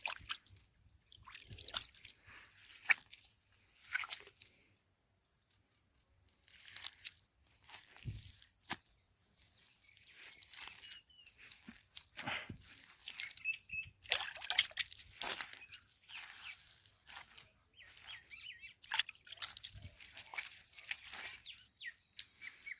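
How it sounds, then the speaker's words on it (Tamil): Wet clay being kneaded by hand with water for baking eggs, soft squishing and slapping sounds coming in irregular bursts with quiet gaps, close and fairly faint. "களிமண் தோ இருக்குது இதை நம்ம பிசைஞ்சிக்கலாம் தண்ணி ஊற்றி"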